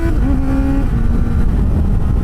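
Kawasaki ZX-4RR sport motorcycle accelerating hard with a quick shifter, a loud close engine whine that climbs, drops sharply at a gear change, then keeps pulling under steady wind and road noise.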